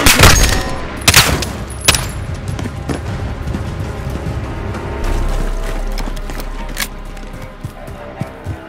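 Sharp gunshots crack in quick succession, then sporadic distant shots over a rumbling engine-like background, all with a game-like mix, from Call of Duty: Modern Warfare.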